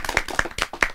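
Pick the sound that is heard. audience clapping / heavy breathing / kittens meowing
audience clapping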